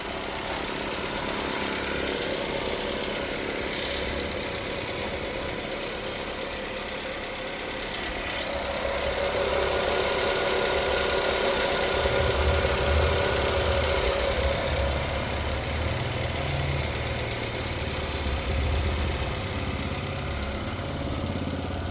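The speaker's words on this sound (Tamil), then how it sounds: "வண்டியோட இன்ஜின் நாய்ஸ்லாம் கேட்டிருப்பீங்க, சூப்பராக இருக்குது." A 2012 Nissan Sunny petrol engine idles steadily with a low, even rumble, growing slightly louder and deeper partway through, with no voices.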